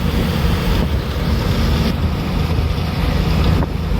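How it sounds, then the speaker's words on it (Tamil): Strong hot wind roars steadily against the microphone on a sunny roadside on the way to Hyderabad, a dense gusty rush with no other sounds standing out. "அனல் காற்று பயங்கரமாக அப்படி வீசுது"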